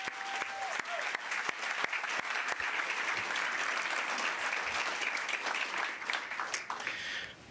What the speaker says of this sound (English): Let's everyone give a round of applause.